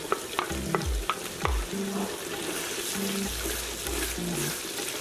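Ingredients for Ghana jollof rice fry and get stirred in a pot, with steady sizzling under repeated scraping strokes of a spoon against the pot, close and moderately loud.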